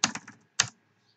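A computer keyboard taps out a file name in a quick cluster of four or five keystrokes, a pause, then one final sharp press, close and clear with no voices.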